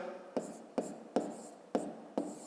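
A pen writes numbers on paper in five evenly spaced, soft tapping strokes, close and quiet, with no voices.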